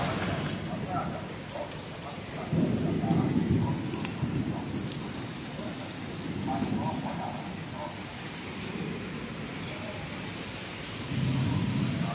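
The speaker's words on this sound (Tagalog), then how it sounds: "Lakas ng ulan" Heavy rain pours steadily in a dense roar at a market, with muffled voices and low rumbles rising and falling beneath it.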